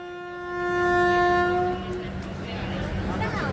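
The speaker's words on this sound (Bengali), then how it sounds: "মিনিট 40 লেট করে সকাল 8টা নাগাদ নিউ জলপাইগুড়ি স্টেশনে ঢুকলো গরিব রথ" The Garib Rath train pulling into New Jalpaiguri station sounds a loud, sustained horn for about a second and a half, and then the heavy rolling rumble and clatter of the carriages carry on nearby.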